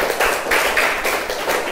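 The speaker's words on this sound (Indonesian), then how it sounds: "Kasih tepuk tangan untuk Epul anak-anak." Children in an Indonesian primary classroom clap together for a classmate, a short burst of rhythmic, fairly even claps close by, with no talking over it.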